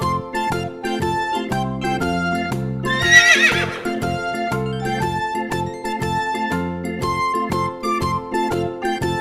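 A horse gives one loud, quavering neigh partway through, set against bouncy looping children's music with a rhythmic clip-clop beat.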